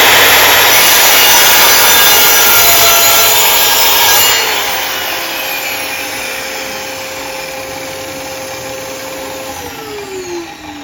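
A hand saw cuts through a small piece of wood, a loud continuous rasping of rapid strokes that softens and thins toward the end.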